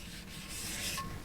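Short steady rubbing while an item is wiped clean with a little water inside a self-converted Camaro car camper, a soft broadband scrubbing texture that swells in the middle, close and alone without talk.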